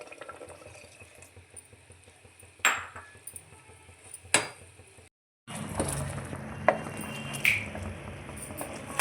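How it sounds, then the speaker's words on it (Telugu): A pressure cooker set on a stove for pumpkin halwa, with milk poured in: soft pouring and liquid sounds, a few sharp metallic clinks of the pot, then a brief silence before louder splashing resumes. "స్టవ్ వెలిగించి కుక్కర్ పెట్టేసి అందులో పాలు పోద్దాం"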